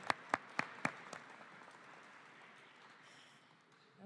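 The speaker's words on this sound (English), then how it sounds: "So please, a round of applause and welcome." Audience at a St. Louis Board of Aldermen presidential inauguration begins with a few loud, separate claps that quickly fade into a softer, fairly quiet patter of applause.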